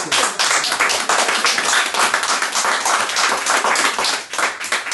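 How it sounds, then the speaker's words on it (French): A live audience breaks into loud, close applause, a thick continuous patter of many hands clapping without pause for several seconds. "sous les applaudissements du public."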